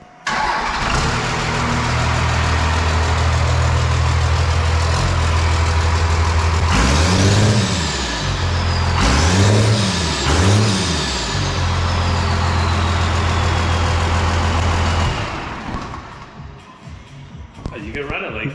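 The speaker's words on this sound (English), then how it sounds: "Boys want to fire it up with no exhaust." A diesel truck engine run with no exhaust, straight from the turbo, fires up and roars loud and raw, with several rev swells in the middle before it winds down; voices talk alongside it.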